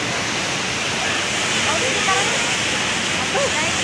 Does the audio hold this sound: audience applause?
no